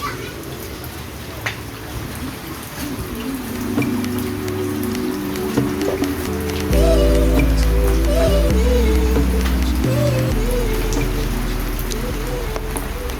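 Steady rain patters throughout, with a low hum and some musical tones joining partway; no voices are heard.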